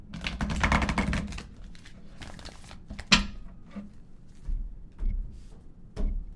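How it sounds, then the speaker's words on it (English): Tarot cards being shuffled during a reading, a run of quick papery riffles and taps with a louder snap near the middle and softer bursts after, close and alone. "Shuffle one more time"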